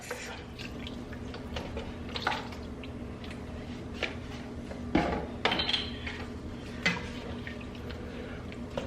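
Low sodium broth poured into a pot of braised short ribs: a faint trickle and splash of liquid with occasional drips and light clinks of cookware, quiet and close.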